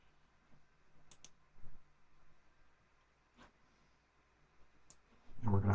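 A few sparse, soft mouse clicks on a computer, faint and spaced seconds apart in a quiet room, ending with a brief louder bump.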